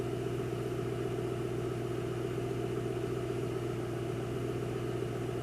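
A car engine idles after winter storage as it warms up, giving a steady, low, even rumble with a faint mechanical hum, constant and alone throughout.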